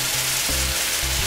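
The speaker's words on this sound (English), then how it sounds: "Flour is in, so I'm adding the milk" Milk poured into a hot pan of flour and vegetables for a chicken pot pie filling gives a dense, continuous sizzle and bubbling hiss, close and steady, with faint low sloshing underneath.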